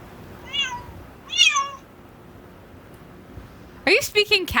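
A cat's meow played back by a translator app, heard as short tonal calls at the start and again near the end, with talk in between and a faint room hum underneath.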